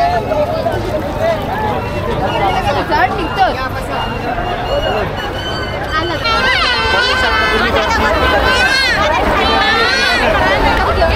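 Dense crowd hubbub at the Mhasa yatra village fair in Murbad, many voices chattering and calling at once, close and continuous, with scattered shouts rising over the din.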